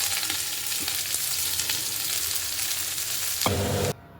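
Onions dropped into hot oil in a kadai, a loud, continuous close-up sizzle and crackle of frying that holds steady, swells briefly near the end, then cuts off abruptly.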